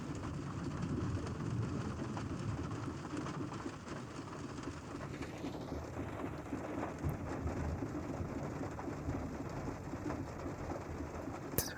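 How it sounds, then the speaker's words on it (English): Heavy rain pouring steadily outdoors, a dense continuous wash of drops that holds an even level, with faint bird calls above it and no speech. "It's raining so much."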